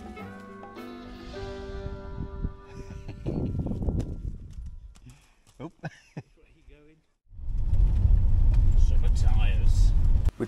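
A van runs along a Scandinavian road on newly fitted summer tyres. After a quieter stretch with other sounds, a loud, steady road and engine rumble sets in for the last few seconds.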